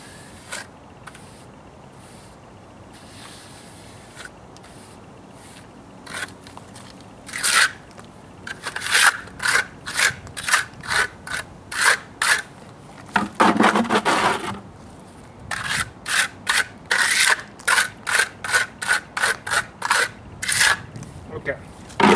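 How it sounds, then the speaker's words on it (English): Old stucco being scraped out of a wall during a stucco patch repair, heard as a series of short rasping, crunchy strokes that grow louder and more rhythmic, with a sustained gritty scrape in the middle. "Try to scrape out as much as I can here."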